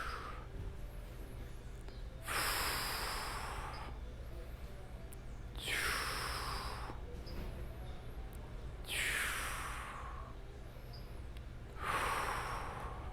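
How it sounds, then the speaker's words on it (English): Loud vocal exhales during a yoga core workout, four long breathy pushes evenly spaced several seconds apart, with quieter breathing between them and no talk. "Notice how my breath is always vocal, always moving."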